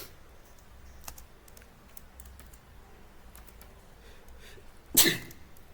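Light, scattered clicks of typing on a computer keyboard in a terminal, soft and close, broken by a single loud burst near the end.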